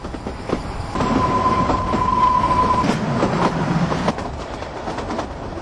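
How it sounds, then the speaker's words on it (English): Kalka–Shimla mountain train climbing into the foothills after leaving Kalka station, with rumbling carriages, rhythmic wheel clicks and a sustained high wheel squeal on the curving track, moderately loud and steady throughout. "Immediately after its departure from Kalka station, the train enters the foothills, beginning its picturesque serpentine climb."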